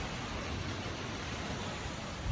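Heavy rain pours in Pune during a scooter ride, a dense, continuous hiss of falling water with no pauses.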